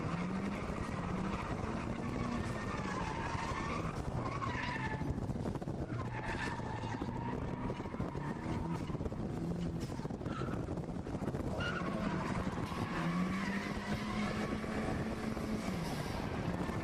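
A drift car slides through long linked corners in 4th gear at a drift competition, engine roaring and tires squealing continuously under constant crowd and ambient noise, with the pitch rising and falling as the car transitions.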